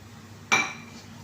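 Tomato, string beans and eggplant drop into a cooking pot with a single sharp metallic clank and brief clatter against the pot, then quiet background hum.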